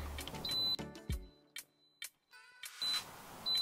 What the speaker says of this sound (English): I've got the low temperature alarm going off.